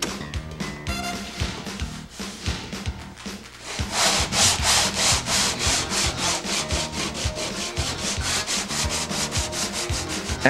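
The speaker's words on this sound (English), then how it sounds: "Stop filing while the filler is still slightly higher than its original shape." Hand file scraping back and forth over hardening body filler on a small car dent repair, a steady run of close, loud rasping strokes in quick rhythm, lighter and sparser at first, then dense and continuous.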